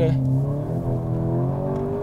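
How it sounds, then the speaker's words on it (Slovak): A Škoda car engine runs steadily while driving, a smooth continuous hum held under a voice talking throughout. "ten motor má nádherně lineární chod"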